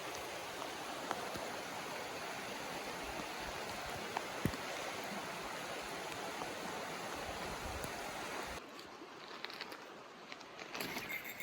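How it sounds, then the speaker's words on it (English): Heavy rain hammering down in the New Brunswick wilderness, a dense steady hiss of drops on surfaces with a few louder individual hits, easing slightly near the end. "look at the rain coming down."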